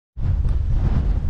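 Wind gusting across dry farmland near Nobleford, a sudden onset of loud low rumbling buffeting against the microphone that holds steady and close, no voices.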